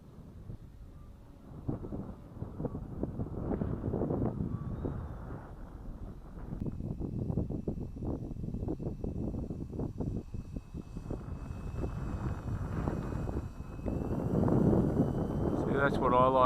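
Steady wind noise buffets the microphone while a Tundra aircraft flies in windy, gusty weather, a continuous low roar rising and falling throughout with a faint engine tone underneath.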